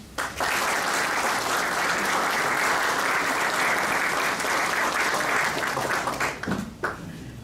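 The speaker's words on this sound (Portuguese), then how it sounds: "peço uma salva de palmas" A crowd at a book launch for the 150th anniversary of the Ribeira Grande volunteer firefighters breaks into sustained, dense applause that holds steady for several seconds, then thins and fades near the end.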